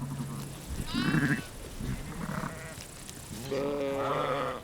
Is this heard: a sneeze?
no